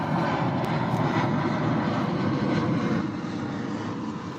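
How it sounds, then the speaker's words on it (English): Propeller airplane passing overhead, a steady broadband drone that holds loud for several seconds and eases off slightly toward the end, with no talking. "Sorry guys, airplane."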